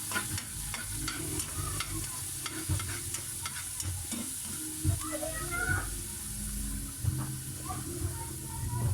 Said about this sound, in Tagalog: gigisa lang po natin yung bawang sibuyas